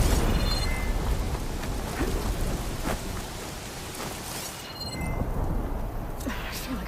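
Rain patters steadily while thunder rumbles low and heavy in a stormy scene from the video game Horizon Forbidden West, with occasional sharper crackles and no speech.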